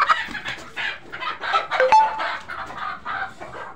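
Gavrani country chickens of the original village breed cluck and squawk close by in a busy, uneven series of loud calls, with a crowing note among them.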